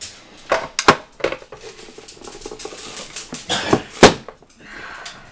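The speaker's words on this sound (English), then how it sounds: "Onions are a little bit harder to cut in this" An onion sliced into rings on a cutting board in a home kitchen, with a series of sharp, irregular knife chops and crunchy taps, close and fairly loud, with no talking.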